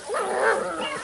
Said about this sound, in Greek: 2-3 μηνών έχω σκυλάκι